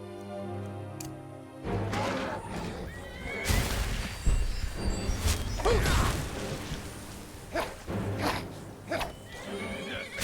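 A horse in the Skyrim video game neighs loudly and whinnies amid a chaotic fight, with clattering hooves, heavy impacts and mechanical clanks throughout.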